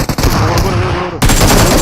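PUBG Mobile gunfire as loud, close, sustained automatic bursts with a brief gap before a fresh volley, dense and harsh throughout.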